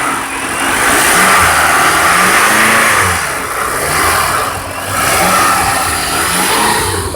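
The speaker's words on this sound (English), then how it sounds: "It's a very quiet engine, you can hardly hear it. Just rev it a few times." A brand new Toyota Camry LE engine revved a few times from idle, rising and falling mid-pitched engine swells heard up close, three gentle revs with quiet running between, no voices.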